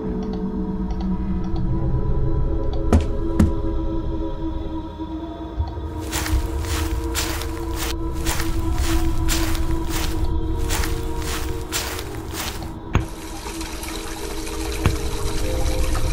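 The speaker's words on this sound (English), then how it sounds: "Your water flowing." Water flowing in the video game Deeper Sleep, a steady liquid rush under a low ambient drone, with a run of sharp rhythmic bursts partway through and a brighter hiss toward the end.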